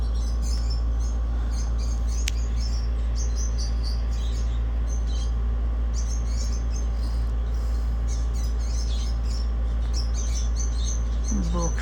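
Many lovebirds in an aviary of about fifty pairs in Saudi Arabia keep up a steady wash of high, thin chirps and twitters over a constant low hum, with no clear speech.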